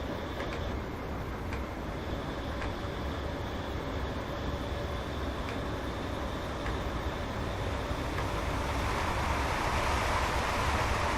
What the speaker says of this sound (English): There's an intercity service passing us there.